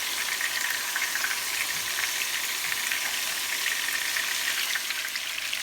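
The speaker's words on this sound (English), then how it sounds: "Alright, folks, our meatballs are getting nice and brown." Meatballs browning in a hot pan give off a steady, dense crackling sizzle that holds evenly throughout, close and fairly loud, with no voices over it.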